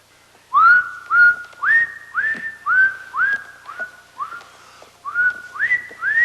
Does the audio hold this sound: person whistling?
yes